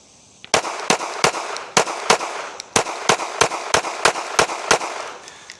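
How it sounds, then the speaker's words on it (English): Smith & Wesson M&P Bodyguard 2.0 pocket pistol emptying its magazine, a rapid run of sharp, loud close gunshots in an uneven rhythm, about twenty shots with a short pause partway through; no talk. "let's go ahead and do a mag dump reload with both"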